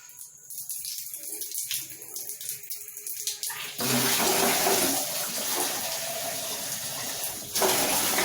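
Water pours and gushes steadily over a head during a hair wash on the fifteenth day after a hair transplant, starting as light splashing and trickling, then becoming a continuous close rush of running water with no talk.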